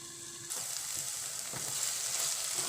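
Tomatoes cooking in a pan over a low flame for baingan bharta, a soft continuous sizzle that swells after a short pause and holds steady with faint bubbling pops.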